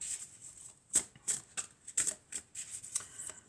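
Tarot cards being shuffled by hand, a quick series of crisp riffling flicks and soft slaps in an uneven rhythm, close and fairly quiet, with no talking.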